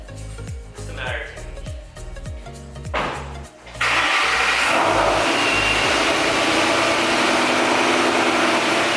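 An engine cranks with several rhythmic turns, stutters, then catches and roars into a loud, steady run up close.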